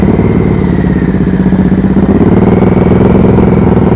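A motorcycle engine runs at low speed during slow-speed riding practice, giving a steady, loud, close-up rumble with slight throttle variation throughout and no voices.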